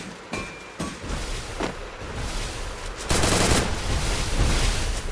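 M10 submachine gun fire in the Free Fire mobile game, with several bursts of shots and a sustained loud volley toward the end, with no voices present.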